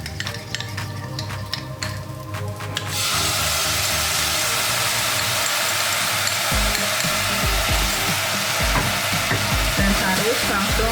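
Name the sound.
stirring sugar with tamarind water in a pan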